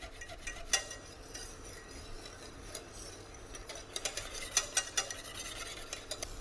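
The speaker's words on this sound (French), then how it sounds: "je viens gratter le fond de ma casserole et les bords" A utensil scrapes the bottom and sides of a saucepan of thickening cornstarch or flour pastry cream for a coffee religieuse over gentle heat, in short intermittent strokes that grow louder and sharper toward the end, with no talking.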